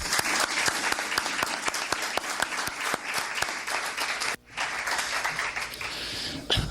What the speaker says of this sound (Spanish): Le pido un fuerte aplauso para don Miguel Cano López Luzati.